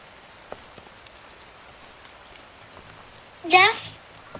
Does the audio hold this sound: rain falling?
yes